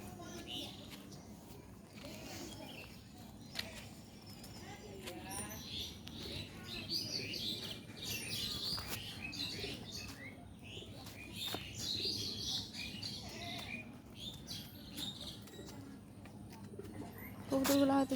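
Pigeons coo and chirp softly while being fed, with occasional wing flaps and light rustling close by, under quiet intermittent talk in a rural home setting.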